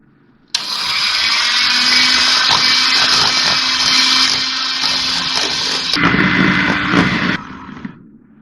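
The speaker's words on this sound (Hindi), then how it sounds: "अब मैं इसको बीटर से बीट करूँगी" An electric beater whipping sponge cake batter in a bowl starts abruptly and runs as a loud, steady, high whirring drone, dropping in pitch partway through and then cutting off near the end.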